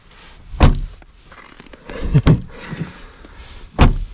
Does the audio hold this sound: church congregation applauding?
no